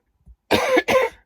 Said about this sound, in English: it actually hurts to cough